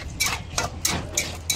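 Potatoes frying in hot oil in a kadai are stirred, giving a few soft scraping and clinking strokes at a steady rhythm over a low sizzle, close and fairly quiet, with no talk.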